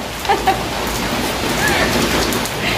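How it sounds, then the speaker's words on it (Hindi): Rain pours down steadily after a spell of hot weather, making a dense, continuous hiss close by with faint scattered drips and light wind. "तो फाइनली आज बारिश हो गई"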